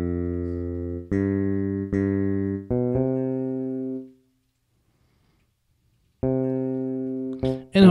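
Looped instrument recording playing back in the ThumbJam iOS app: a few clean, sustained synthetic notes in sequence, a pause of near silence, then another note returning and a brief bright burst at the end.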